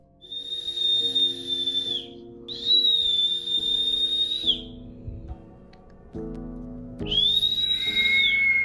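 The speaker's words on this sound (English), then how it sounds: "Someone is whistling, but wait to see what they recorded." Long, high, sustained whistles from a person at night sound three times with pauses between, clear and fairly loud over a low musical hum.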